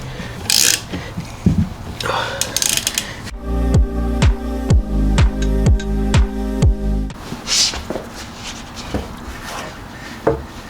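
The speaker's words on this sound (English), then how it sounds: "Get a 22mm here. Just gonna crank this bad boy down." A ratchet with a 22mm socket cranking down a differential bolt on a BMW E36 gives a run of sharp, evenly spaced mechanical clicks in the middle of the clip, loud and close, with rustling before and after.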